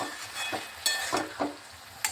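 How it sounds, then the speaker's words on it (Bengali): Tomato, ginger and cumin paste with hilencha greens frying in a pan, a soft continuous sizzle broken by a few louder stirring scrapes. "এবার ভালোভাবে আমি এটাকে একটু কষিয়ে নিচ্ছি"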